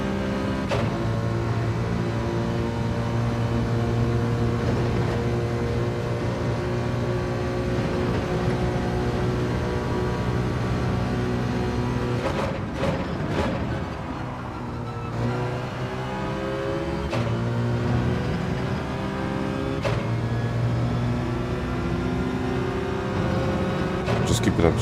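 A race car engine in Gran Turismo 7 drones steadily on the St. Croix circuit, holding a sustained tone with short gear-shift dips around the middle, while someone talks over it.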